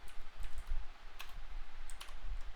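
Quiet keystrokes tap on a computer keyboard in short irregular bursts, close by and soft, with no speech.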